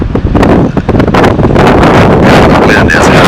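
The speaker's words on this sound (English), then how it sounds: "The wind is howling." Strong gusting wind howls across an outdoor high school baseball field, buffeting the microphone in loud, rough blasts that continue through the whole stretch.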